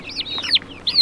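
Chickens cluck and squawk nearby in quick, uneven bursts, several short calls overlapping with no talking.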